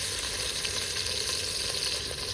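Onion frying in a pan for a phalva vegetable dish, a dense continuous close sizzle with a steady bright hiss and no voices.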